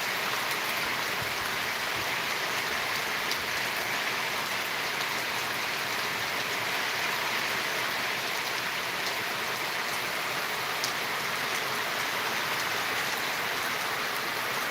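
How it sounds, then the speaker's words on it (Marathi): Steady, heavy rain falling continuously on farm fields of sugarcane and soybean, a dense even hiss of drops on surfaces with no talking. "मस्त पाऊस पडला उसाला"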